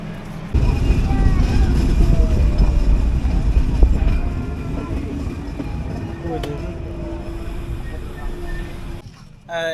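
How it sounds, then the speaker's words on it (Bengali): The Sundarban Express rumbles steadily at crowded Pangsha station with a deep, continuous roar and rattling, faint voices and clatter mixed in before the noise drops near the end. "এই ট্রেনটা পাংশাতে আপনার স্টপেজ দেয়"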